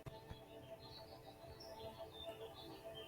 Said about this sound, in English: Hear those birds in the background?